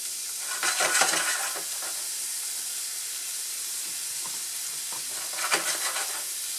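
Shallot and scallion sauté in a pan with a constant even sizzle up close, punctuated by two bursts of scraping stirring, one early and one late, with nobody speaking.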